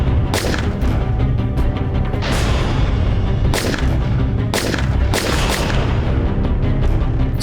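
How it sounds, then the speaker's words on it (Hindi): Gunshots ring out in a Hindi crime drama scene, several loud sharp bangs at irregular intervals over a dense, continuous background. "सर मैंने बहुत सारी गोलियां चलाई वहां पे"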